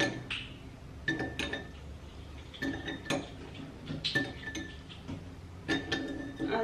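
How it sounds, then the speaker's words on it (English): A metal spoon clinks against a bowl while sugar is added, producing a series of light, sharp taps spaced irregularly through the stretch, close and fairly faint with no speech. "I'm gonna be putting about 3 tablespoons of my sugar"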